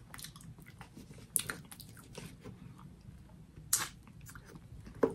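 Grilled hot Nando's peri-peri chicken with gristle is chewed up close in a quiet setting: soft, moist mastication punctuated by three sharp, louder bites or crunches spaced a couple of seconds apart, with no talking.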